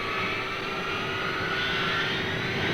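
Strategic Air Command B-52 jet bomber on its takeoff roll, a loud, steady jet engine roar with a high whine layered over broad rushing noise, sustained throughout without voices.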